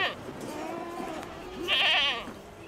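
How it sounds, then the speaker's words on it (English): A flock of almost 400 sheep and goats on arid land near red dunes bleats, with wavering cries at the start and a louder, trembling bleat near the end, over quiet background. "Gert Titis shepherds a flock of almost 400 sheep and goats"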